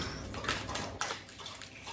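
Dogs lap water from a bowl, giving soft wet splashing and slurping sounds over a steady background, close and moderately quiet, with no talk.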